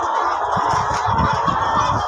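Chickens at a family breeder's egg-laying area give a steady mix of clucks and murmurs, with low bursts of bird calls scattered through and continuous nearby coop noise, no talking.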